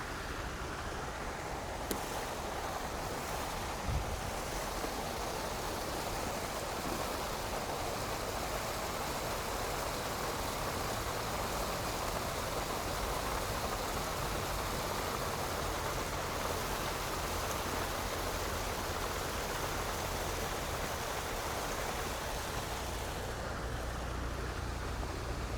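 Yamuna river water being scooped into a container outdoors, a steady broadband wash and splash of moving water running continuously at moderate level, with no talk over it.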